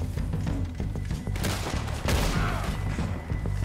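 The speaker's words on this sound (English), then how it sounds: "They're still shooting at something." Red Dead Redemption 2 gunfire during a gang shootout, with a few sharp shots and a heavy boom over dense, rumbling background noise and ambience.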